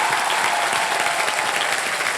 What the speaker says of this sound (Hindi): तो एक बार अजय जी के लिए जोरदार तालियां।